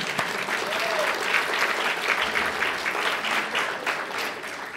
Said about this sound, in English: One more round of applause for both of them.